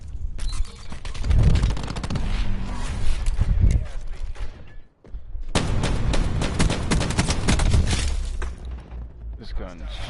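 Gunfire in the video game Black Ops 4 crackles in dense, loud automatic bursts that stop briefly and then resume, with a voice speaking over the shots.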